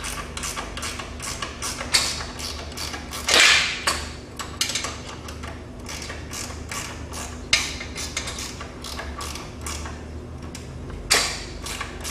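Nuts and bolts being loosened by hand tools while installing a GlidePro stabilizing system: a string of sharp metallic clicks, ratcheting snaps and clanks, close by, with quiet gaps between bursts.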